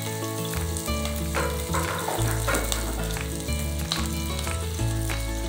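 Green chillies frying in hot oil for spicy dhaba-style tomato rice, a steady close sizzle that runs throughout, with a low hum underneath and no talking.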